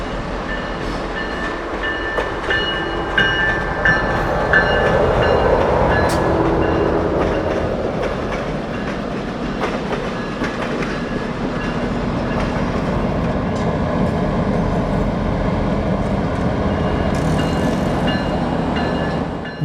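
A passenger train hauled by diesel locomotives, former Norfolk Southern F units, rumbles past on a mainline run for a long stretch, a steady heavy roar of engines and rolling wheels with a faint horn near the end.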